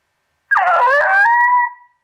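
A single long, wavering canine howl from an electronic game caller, loud and clear, rising then holding a steady pitch before fading out against silence.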